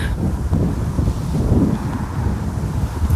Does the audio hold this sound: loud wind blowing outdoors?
yes